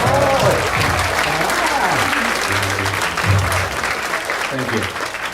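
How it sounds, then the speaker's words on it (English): An audience applauds after a magic trick at a show, with steady, dense clapping throughout while a performer keeps talking over it. "fling open the fabric and receive your well-deserved applause"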